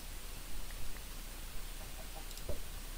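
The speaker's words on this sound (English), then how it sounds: "one of these eggs will hatch into another chicken" A Minecraft chicken gives a few short, faint clucks over a steady low background hiss, with no talking.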